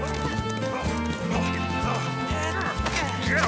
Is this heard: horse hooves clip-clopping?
yes